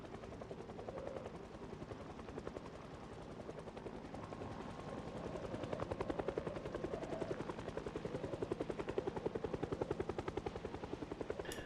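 A helicopter in a zombie video game keeps up a loud, rapid rotor chop throughout, a steady pulsing thump over a whining engine drone, with no voices.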